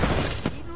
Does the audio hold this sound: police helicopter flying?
no